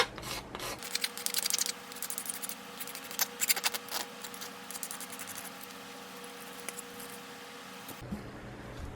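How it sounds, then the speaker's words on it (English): A hand file trims the edges of brass parts for a steampunk computer mouse, giving a steady close scraping rasp with repeated strokes, alone throughout. "I'm just going to trim the edges a little bit here with the file so that they're a little bit looser"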